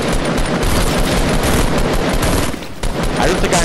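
Rapid, sustained automatic gunfire from a video game fills the clip loudly and densely, with a brief dip near the end before the bursts resume.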